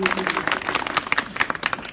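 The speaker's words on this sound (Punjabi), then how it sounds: "ਸੋ ਇੱਕ ਵਾਰੀ ਤਾੜੀਆਂ ਨਾਲ ਜਵਾਕਾਂ ਦੇ ਨਾਂ ਤੇ" A crowd at a village political gathering gives a short burst of clapping for the children, dense and fairly close, mixed with speech.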